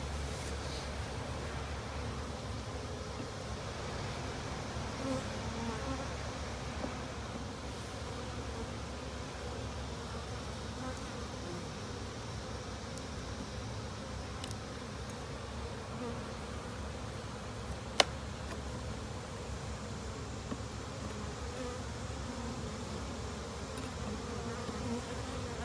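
Honey bees droning steadily around garden hives where a colony had absconded and been resettled, a low continuous hum at moderate distance with one sharp click partway through.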